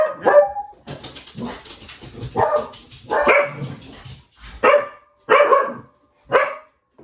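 A dog indoors barks at a man walking past outside with his own dog, sending loud, close, sharp barks in irregular bursts with brief pauses between them.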